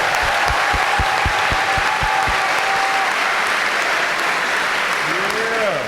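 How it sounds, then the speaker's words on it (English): An audience breaks into sustained applause at a Black student athlete summit, dense clapping carried by a crowd, steady and loud throughout, with a few distinct claps standing out near the start. "Let's clap it up."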